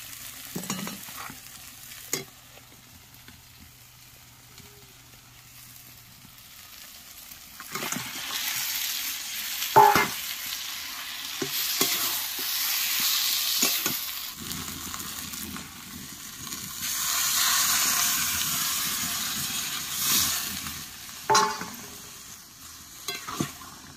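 Tomatoes and spices (turmeric, salt, chili) fry and sizzle in a pan while being stirred, a steady hiss with scraping strokes and occasional clatter, loud and close with no talking.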